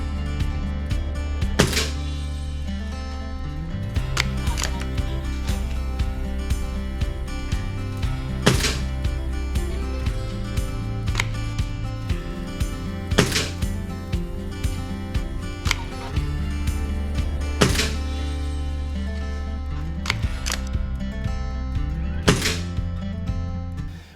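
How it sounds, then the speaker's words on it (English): A BSA Lightning GRT break-barrel air rifle fires five pellet shots at a 20-yard target, each a sharp crack and thunk spaced several seconds apart, with clicks and mechanical handling between shots over a steady low hum. "we're gonna do a 20-yard 5-shot group to try and give you an idea for the accuracy"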